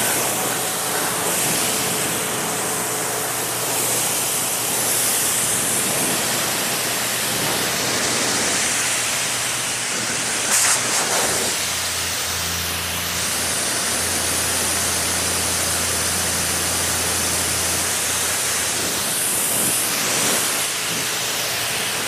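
A water spray rinses a very dirty bicycle, producing a loud, steady hissing rush that runs unbroken throughout with small shifts in intensity as the stream moves, and nobody speaks.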